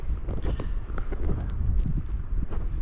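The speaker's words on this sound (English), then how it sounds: "You can just feel the wind hitting." Strong wind gusting through a snowstorm on a Snowdonia mountain hike, a continuous close roar buffeting the microphone with deep rumbling pulses that stay loud throughout.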